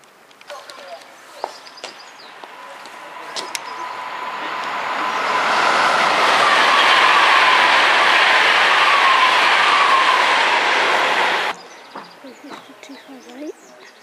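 A fast train rushes through Clapham Junction station with a rising roar that holds for several seconds then cuts off abruptly, leaving quiet ambience with faint bird chirps.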